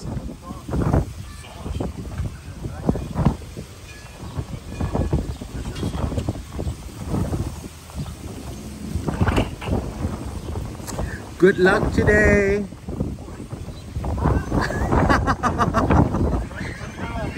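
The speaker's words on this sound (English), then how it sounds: "It's breezy. It's windy." Gusty wind buffets an outdoor fishing spot by the water, a steady rumble of wind noise across the microphone under nearly continuous conversation and calls between people.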